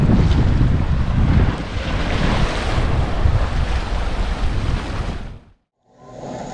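Loud surf and breaking sea waves at a beach on the island of Hawaii, with wind buffeting the microphone, a steady roar that cuts out abruptly near the end before resuming more quietly.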